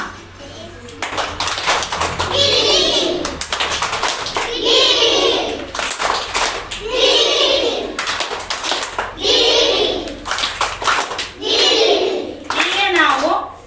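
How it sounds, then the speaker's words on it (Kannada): Groups of schoolchildren doing 'gili gili' clapping together, with bursts of rapid fluttering claps alternating with an adult voice giving instructions, repeated several times in a close, echoey room. "ಈಗ ನಾವು ಗಿಲಿ ಗಿಲಿ ಚಪ್ಪಾಳೆಯನ್ನ ಮಾಡೋಣ ಎಲ್ಲರೂ ಒಟ್ಟಿಗೆ"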